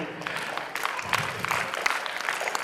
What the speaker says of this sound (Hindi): इनके लिए भी जोरदार तालियां स्वागत करें